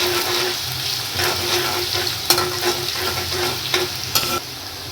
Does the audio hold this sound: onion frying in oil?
yes